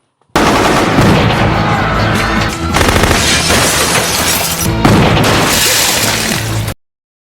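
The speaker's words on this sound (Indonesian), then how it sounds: "Dan setelah itu, baku tembak terjadi." A film shootout with bank robbers erupts in dense, continuous automatic gunfire, loud and close, with rattling bursts, cracks and shattering noise filling several seconds before cutting off abruptly.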